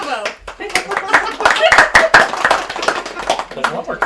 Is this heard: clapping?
yes